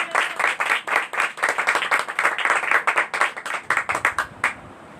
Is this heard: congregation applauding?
yes